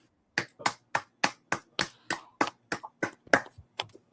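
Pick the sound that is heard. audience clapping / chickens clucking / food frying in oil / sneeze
audience clapping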